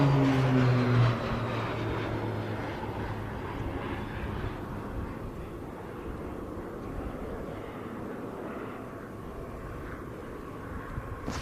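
Texan aircraft arriving at an air tattoo produce a steady broad engine roar that holds at a moderate level throughout, with a brief louder tonal swell at the start.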